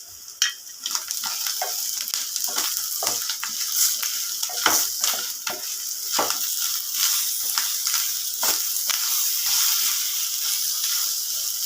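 Grated coconut and a single tomato sauté in a pan, giving a steady close sizzle broken by frequent sharp spatters and stirring scrapes that go on throughout without talking.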